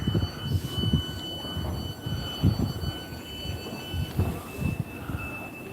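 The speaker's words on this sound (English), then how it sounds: "Oh, a train behind us, should I say." A multi-carriage train passes on the line at Belgrove near Glasgow, its rumble and rhythmic clatter of wheels over rail joints loud and close, with a high steady whine above.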